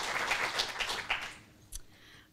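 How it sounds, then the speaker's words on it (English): An audience at a university quick pitch competition applauds a presenter with dense clapping that fades out after about a second and a half. "All right, a round of applause for Joseph"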